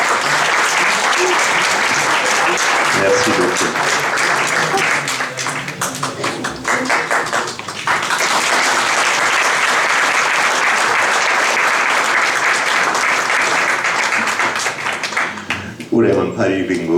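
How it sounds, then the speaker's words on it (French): Audience at a conference hall applauds in a long, loud, dense wave of clapping that dips briefly midway and fades near the end, when a voice speaks briefly. "Donc on peut également applaudir ce Sofraj Tebrevan."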